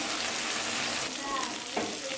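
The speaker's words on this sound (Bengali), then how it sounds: "মশলাটা ভাজা হতে লাগবে" Spice masala with mustard paste frying in a pan, a dense steady sizzle that stays loud throughout, with faint scraping of stirring near the end.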